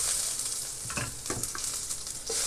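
Onion sizzles in hot oil in a pan for pansit, a steady close frying hiss broken by several stirring scrapes and clacks of a utensil against the pan.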